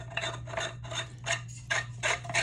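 Threaded metal rod of a monitor stand twisted into its base: a quiet, close rasping scrape repeating in about six short strokes, with a low steady hum beneath.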